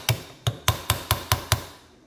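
Hammer lightly tapping an RCV axle shaft during a rebuild: seven crisp metallic taps in an even rhythm, close and clear with short ringing decays, no voices.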